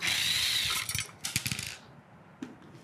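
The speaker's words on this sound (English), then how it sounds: "So I'm just gonna run those two screws out." A power driver backs out T20 security screws from a Quantum device housing: a brief high whir close by, followed by light metallic clicks and rattles as the screws come loose.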